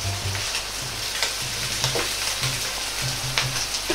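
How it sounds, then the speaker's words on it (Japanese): Steady loud sizzling of shrimp frying in a hot pan over medium heat, seared one side at a time, with occasional soft clinks and stirring sounds over the constant hiss. "炒めるというよりは片面ずつ焼いていく感じです。"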